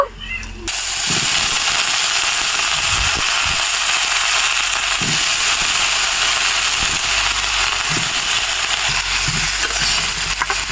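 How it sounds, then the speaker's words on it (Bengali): Raw green banana pieces, soaked in salted turmeric water, hiss and sizzle steadily in hot oil after fried chillies, a loud continuous frying wash with faint occasional clinks of stirring. "কলাগুলো একটু সময় ভেজে নিব"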